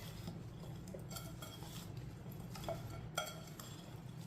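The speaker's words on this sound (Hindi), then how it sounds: "हल्दी और नमक को ना अच्छी तरह मिक्स करना है।" A spoon mixes turmeric and salt in a dish for raw mango pickle, giving soft, quiet scraping with a few faint clinks of metal against the bowl.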